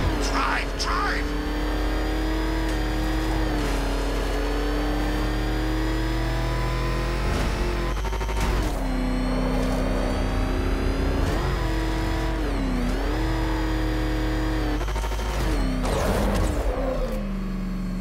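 The Batmobile drives and revs in Batman Arkham Knight, a continuous loud engine drone that rises and falls as it accelerates, under dialogue and game sounds throughout.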